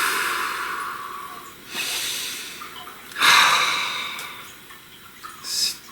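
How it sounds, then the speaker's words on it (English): A slow, deep breath drawn in and released during a guided meditation, breathy hiss rising and fading twice, close and alone. "Please take a nice deep breath."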